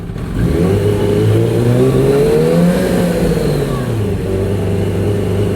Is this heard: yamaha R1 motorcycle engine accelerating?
yes